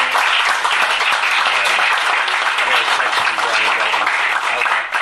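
Round of applause at a launch party for Pathfinders, a loud, dense wash of many hands clapping continuously throughout, close and sustained.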